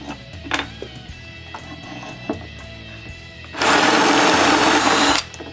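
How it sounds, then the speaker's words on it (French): A power drill bores a hole in wood for a latch on a wooden ski-doo case, a loud high whine lasting under two seconds after quiet clicks and handling knocks. "je perce un trou pour la barrure"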